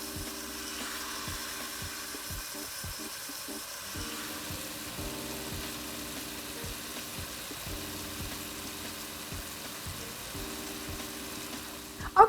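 Beef chunks brown in a hot pan for a Tuscan Chianti beef stew, giving a steady, soft, continuous sizzle under a low hum, with a brief sharp clatter at the very end.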